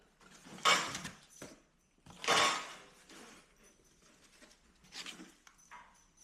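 A dog gives three short, rough, breathy bursts close by among car interior parts and scattered junk, with quiet gaps between them.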